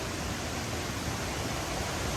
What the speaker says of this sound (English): I know, technically it's not a river, it's a creek